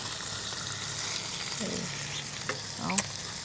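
Steady, soft crackling sizzle of pork frying on a hot Thai grill pan, with faint background clatter and no one speaking.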